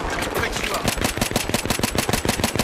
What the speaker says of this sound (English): I'm hitting them with my pistol